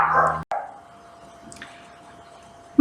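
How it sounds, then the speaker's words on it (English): Dogs bark at home in a short, sharp burst at the start, followed by quieter fragments and a faint whimper or yip against a low background. "Ellie, Molly, the dogs are barking."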